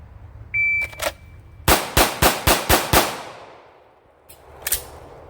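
A handgun fires six rounds at a shooting range. The shots come as a rapid, evenly spaced string of sharp, loud cracks, preceded by a brief electronic beep and followed by a pause and one more distant bang.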